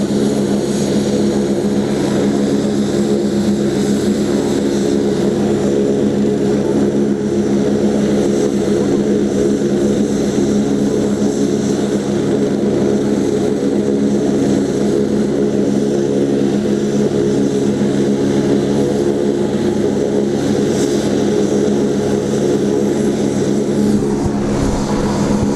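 A helicopter carrying a chief minister after a rally in Ratangarh, Rajasthan, idles loudly before take-off, a steady roaring engine and rotor drone that continues unbroken for the whole stretch, close and with no talking.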